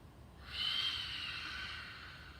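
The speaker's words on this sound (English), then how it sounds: "I'm going to do a very funny breathe out. It sounds like a big sigh out of my mouth, like a big dragon breathing." A loud breath is pushed out of the mouth like a big sigh during a children's yoga exercise, a single airy exhale that swells and slowly fades over a quiet background.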